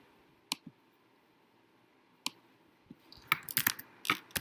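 Clicks of typing on a computer keyboard: two isolated taps, then a quicker cluster of keystrokes near the end, close and quiet, with no talk.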